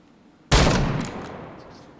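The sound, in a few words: gunfire in the video game PointBlank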